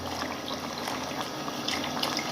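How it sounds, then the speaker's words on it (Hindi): Water that chickpeas were boiled in is poured into a cooking pot for chole, a steady close splashing and gushing that runs without a break and has no talk over it. "ये पानी हम इसके अंदर ऐड करेंगे। ठीक है, जिसके साथ हमने चने उबाले थे।"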